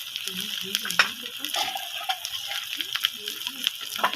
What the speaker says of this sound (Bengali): আর সামান্য পরিমাণে হলুদ দিয়ে ভালোভাবে মশলাটাকে আমি কষাবো।